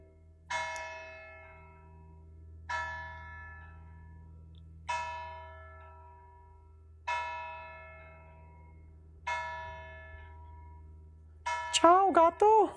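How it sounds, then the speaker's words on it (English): A small village church bell tolls at noon in an Italian village, five clear resonant strikes spaced about two seconds apart, each ringing out and decaying over a steady low hum, followed by a brief voice at the end. "As the little church bell rings, because I think it's noon right now."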